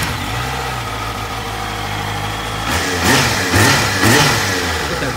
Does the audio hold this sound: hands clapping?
no